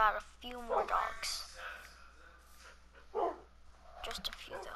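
Several Minecraft dogs barking and whimpering in short bursts, close and fairly loud, with someone talking quietly in between.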